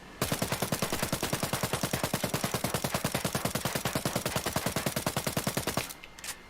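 Uzi 9mm submachine gun in Ghost Recon Breakpoint fires a long full-auto burst of evenly spaced, loud, sharp shots that runs nearly six seconds before cutting off, followed by a faint tail.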